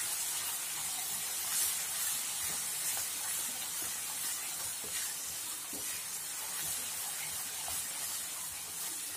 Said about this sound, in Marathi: धना पावडर, काळा मसाला, हळदी हे मसाले चांगले परतून घ्यायचे।